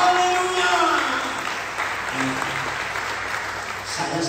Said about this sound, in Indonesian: Sekarang tepuk tangan buat diri sendiri.